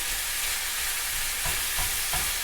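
Sausage for jalapeno popper filling fries steadily in a pan, a constant close sizzle with a few soft stirring scrapes toward the end.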